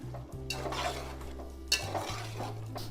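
Potatoes with about 200 grams of yogurt are stirred in a pot for aloo biryani, with soft wet scrapes and a light spoon clink against the vessel over a low steady hum, close and quiet.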